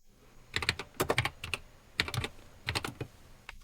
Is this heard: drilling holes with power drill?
no